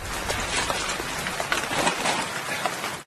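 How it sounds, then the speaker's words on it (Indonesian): Steady rain pours down across the whole stretch, a dense, even hiss of drops striking surfaces, close and fairly loud with no voices. "Tiba-tiba hujan datang"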